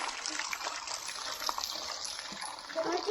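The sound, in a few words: water flowing down from the hills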